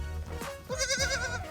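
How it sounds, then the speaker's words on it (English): A baby goat on a farm on a small Nile island near Aswan gives a quavering bleat, close and fairly loud, with a shorter cry just before it. "And this is Baby Goat."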